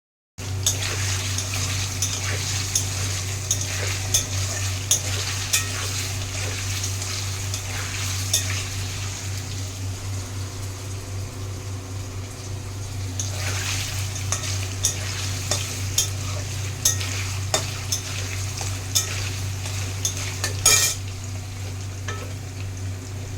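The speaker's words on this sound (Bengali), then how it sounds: "পেঁয়াজটা আর ক্যাপসিকামটা ভেজে নিয়েছি," Onion and capsicum fry in a pan for a kadai paneer dish, a loud steady sizzle broken by repeated clicking strokes of a stirring spoon, close up throughout.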